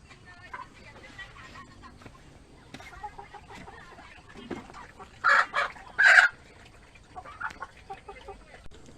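Chickens cluck on a Thai wild boar farm, a few short, loud squawking bursts in the middle standing out over quiet background clucks and farm ambience.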